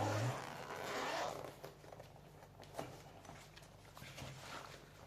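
A zipper on the carry bag of a Bosch C70 battery charger is pulled open in one quick, fairly loud burst at the start, followed by faint rustling and handling sounds.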